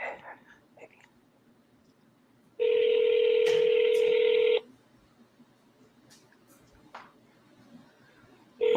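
A phone dialing out on speakerphone gives a loud, steady dial tone of about two seconds in an otherwise quiet room, followed by a brief tone returning at the very end.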